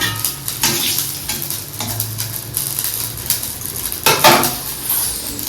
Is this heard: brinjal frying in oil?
yes